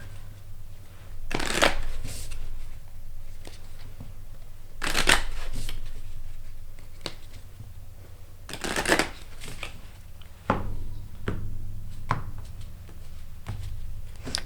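Tarot cards being shuffled in several loud, brisk riffling bursts spaced a few seconds apart, with softer card handling and tapping between them and no talking.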